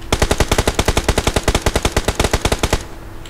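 Rapid automatic gunfire from PUBG Mobile, a steady burst of about two dozen evenly spaced shots, loud and close, ending abruptly with no talk over it.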